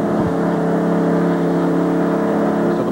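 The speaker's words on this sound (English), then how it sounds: "So the Motorcraft Ford going back out onto the racetrack." A NASCAR Motorcraft Ford race car pulls out of the pits onto the track at Watkins Glen in 1993, its engine a loud, steady, close drone with strong harmonic tones that holds for the whole stretch.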